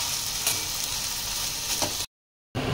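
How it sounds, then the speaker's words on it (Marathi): Whole cinnamon and cardamom dry-roasting in a pan while making paneer lababdar, a steady close crackling sizzle that runs unbroken, drops to total silence for a moment, then resumes. "मग आपले जे मसाले होते दालचिनी, वेलची, ते टाकून घ्यायचं आहे आणि छान असं खरपूस भाजून घ्यायचं आहे"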